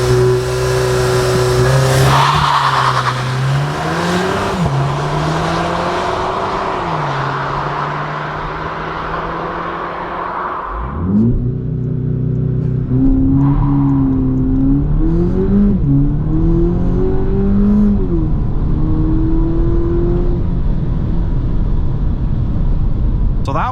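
A 207 hp VW Polo GTI accelerating hard on the Autobahn, its engine rising loudly through the gears with clear pitch drops at each shift, then a roaring, sustained climb at high speed with wind and road noise underneath.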